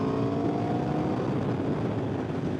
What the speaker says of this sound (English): The sound of that V4 is just phenomenal.